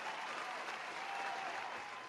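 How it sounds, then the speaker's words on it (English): An audience claps steadily and evenly throughout, a dense, sustained round of applause with no voices standing out. "Round of applause for my parents."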